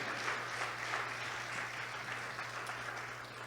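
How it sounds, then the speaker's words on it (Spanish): Church congregation applauding the Lord during a Spanish-language sermon, a steady, faint wash of clapping with a low hum underneath. "Dele un aplauso al Señor"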